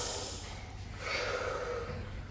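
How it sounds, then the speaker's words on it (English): Deep inhalation by a group of children, a breathy rushing swell that builds and holds for over a second, close and fairly loud with no talking. "Can you breathe in oxygen?"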